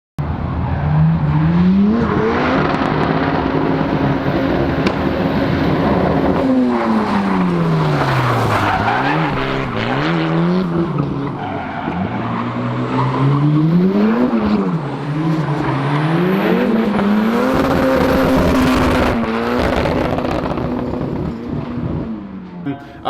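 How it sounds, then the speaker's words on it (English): A turbocharged, high-compression four-cylinder engine with a big cam revs hard and loud toward 8,000 RPM, its pitch climbing and falling in repeated sweeps with tire squeal and skidding noise. "It's not gonna sound as crazy with all, you know, with the RPMs."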